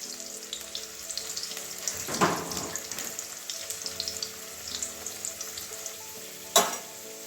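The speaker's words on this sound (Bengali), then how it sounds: "এগুলো ভেজে নেবো লাল করে আলুটা আলু গাজর" Potato and carrot pieces frying in hot oil crackle and sizzle steadily, with a couple of louder scraping stirs standing out.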